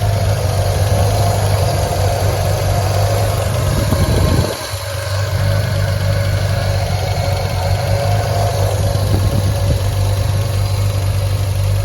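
The 2.5-liter inline-six engine of a 1972 Triumph TR6 roadster idles close up with a smooth, steady low hum and a brief dip partway through, no voices.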